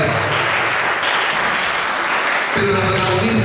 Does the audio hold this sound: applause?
yes